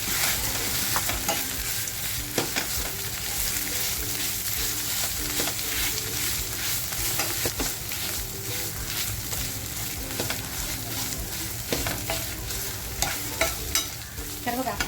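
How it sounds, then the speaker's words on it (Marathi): Red masala of coconut and onion sautéed in a little oil in a pan, a loud, continuous sizzle broken by frequent rhythmic scrapes and knocks of a spatula for the whole stretch. "तोही मसाला आपल्याला असा छान परतवून घ्यायचा आहे"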